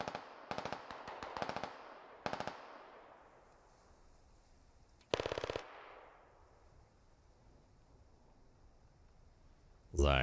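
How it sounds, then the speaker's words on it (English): Bursts of automatic gunfire crackle in the SquadOps video game during an online squad operation, several rapid volleys in short clusters with quiet gaps and a final loud burst, under occasional distant voices. "Got some cover fire coming in from Toasty"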